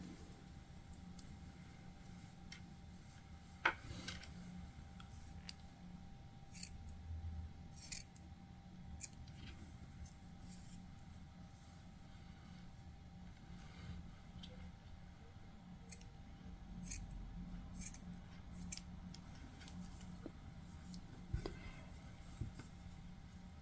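Scissors snip crochet yarn for a mosaic crochet blanket, faint quick clicks and cuts scattered over a quiet background, with a soft voice talking in places.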